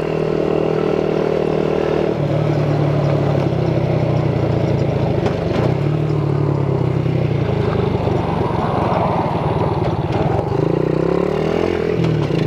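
A Chinese-made quad ATV engine drones loud and close while riding, its pitch rising and falling with the throttle and gear changes, with wind noise and no talk.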